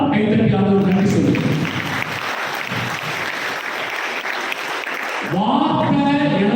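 A church congregation claps during a Tamil Advent retreat service at Saint James Church, Ponneri: a dense burst of applause lasting about three seconds, with voices and singing heard just before and after.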